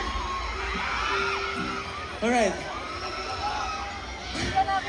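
A concert crowd screams and shouts at a band's Family Day show, a steady mass of cheering voices with scattered whoops rising in spots, while a performer briefly speaks over it.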